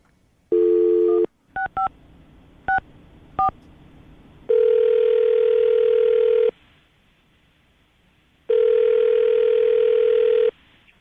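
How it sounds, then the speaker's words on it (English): A landline telephone dials out for a morning radio show call: bursts of steady dial tone alternate with a quick run of sharp touch-tone beeps, loud and clear with no voices. "I'm going to dial the phone number, see if we can get her on the phone"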